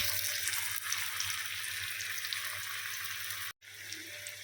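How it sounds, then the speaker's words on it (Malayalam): Potato vadas frying in hot oil: a steady, soft, close sizzling hiss that drops out briefly near the end and then resumes, with no talking. "അപ്പോൾ ഞാൻ വട കുറേശ്ശെ ഇതിനകത്ത് ഇട്ട് കൊടുത്തിട്ടുണ്ട്"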